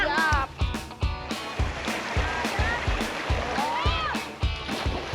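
River water splashes and sloshes in repeated bursts as people play in a river, with excited voices and shouts calling out over the lively splashing.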